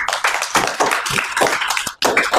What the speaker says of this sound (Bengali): সিমরান এবং আলিশার জন্য হাততালি